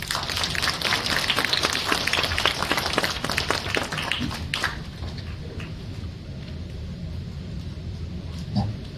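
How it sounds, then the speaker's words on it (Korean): An audience at a university admissions information session claps loudly with dense, crisp applause for about four seconds before it dies away into quiet room noise. "다 함께 큰 박수 부탁드립니다"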